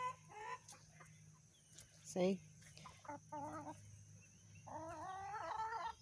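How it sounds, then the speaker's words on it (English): A homestead hen gives a run of soft, repeated clucks and drawn-out calls at low volume, with a person briefly speaking once in between. "The sound she's making sounds more like a hen that just wants to go back and be with the flock and lay an egg."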